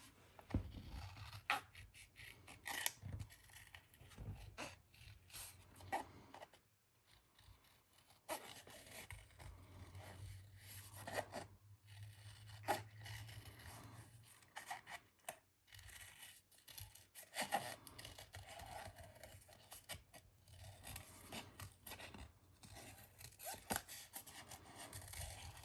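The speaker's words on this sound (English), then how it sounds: "This one, I think I might cut out the flower." Scissors cut a paper flower out of a sheet, producing faint, close snips and soft paper rustles in uneven bursts with no talking.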